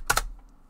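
Two quick computer keyboard keystrokes close together, crisp and close, then quiet, while someone types a command into a terminal.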